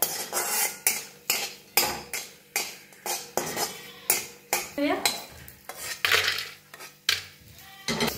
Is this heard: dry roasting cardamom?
yes